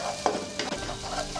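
Eggs are scrambled in hot oil in a pan, a close, steady sizzle with scraping stirs of a utensil across the pan, no voices present.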